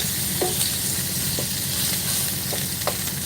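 A steak frying in a pan gives a steady, loud, close sizzle and hiss throughout, with a few faint clicks and scrapes on top.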